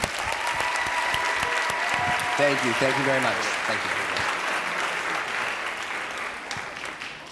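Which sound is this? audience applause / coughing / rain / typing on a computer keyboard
audience applause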